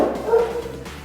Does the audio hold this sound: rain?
no